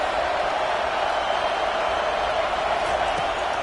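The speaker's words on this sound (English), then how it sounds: "This crowd bringing the energy and noise early." A stadium crowd at a college football game roars in a steady, dense wall of noise that holds at an even level throughout, with no single voice standing out.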